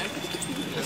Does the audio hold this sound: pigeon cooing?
yes